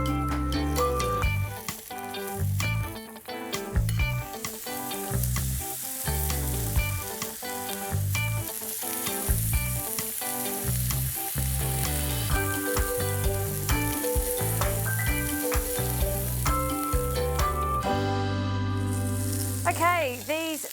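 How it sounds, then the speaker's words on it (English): Meatball patties sizzle on a really hot oiled grill while making Vietnamese bun cha, a continuous crackle running under loud rhythmic background music for the full stretch. "I'm just going to place these meatballs onto a really hot grill"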